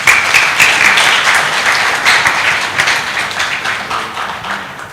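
A conference room full of people applauds panelists, loud at first and then slowly fading, with no speech over it.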